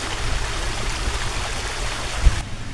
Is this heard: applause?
no